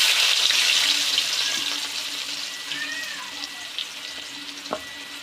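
Cinnamon, garlic, mustard seeds and curry leaves temper in hot oil in a pan for kottu roti, a close, steady sizzle that slowly eases, with a few small pops near the end.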